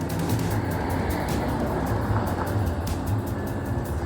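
A Harlem Line electric multiple unit train pulling away, a loud, dense rumble with rhythmic wheel and track clatter, close by and unbroken throughout.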